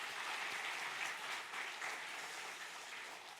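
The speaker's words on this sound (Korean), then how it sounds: "준비한 우리 청년들에게 격려의 박수 한번 보내겠습니다." Steady applause from a church congregation during a Sunday service, encouraging young people, a continuous even clatter of many hands that stays fairly faint and distant throughout.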